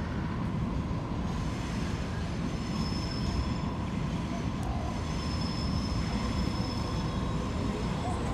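A Sydney light rail tram on the CBD and South East line at Central Chalmers St stop, giving a steady loud rumble with faint wheel squeal throughout, close by and continuous with no talk.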